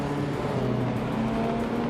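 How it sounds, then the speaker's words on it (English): A 1983 Porsche 911 SC race car is driven with its engine holding a steady, loud drone and sustained harmonic tones, without any sharp revving. "Gina Jones is driving a 1983 Porsche 911 SC"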